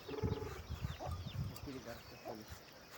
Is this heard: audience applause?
no